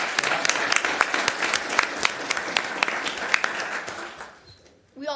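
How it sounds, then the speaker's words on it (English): Applause at a city council meeting honoring Lynn and Nolan for their robotics award, crowd clapping with a few sharp louder claps standing out, fading away near the end as a voice starts to speak. "let's give them a round of applause for Lynn and Nolan"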